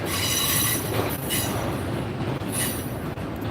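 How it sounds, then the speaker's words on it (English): A train rolls past close by, its wagons rumbling steadily with a bright wheel squeal riding over the din throughout, loud and continuous with no voices. "Train, stop."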